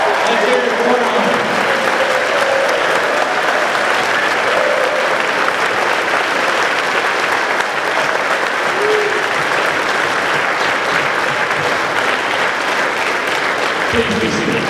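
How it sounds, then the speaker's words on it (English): Sustained, dense applause from a ceremony audience honoring army retirees at a military retirement ceremony, steady and loud for nearly the whole span before tapering at the very end. "Please join me in a round of applause for all the stage retirees."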